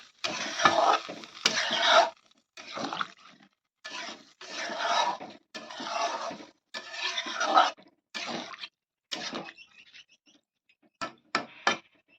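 A spoon works through an onion flower fish curry in a pan with a little water, making repeated short scraping and stirring strokes in a steady rhythm, close and fairly loud, with brief pauses between bursts.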